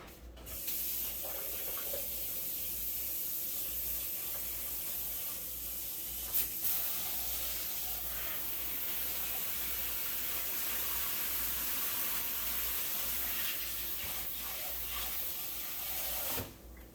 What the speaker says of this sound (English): Let me wash our peppers.